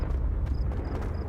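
Confringo blasting spell going off in Hogwarts Legacy, heard as a low rumbling eruption with short repeated bursts of impact over a steady deep roar.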